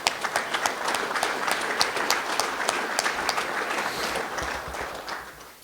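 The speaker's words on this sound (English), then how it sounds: "If we could just give them a big round of applause." Sustained audience applause fills a room at a mining investors' breakfast event, dense clapping from a crowd holding steady before tapering slightly at the end.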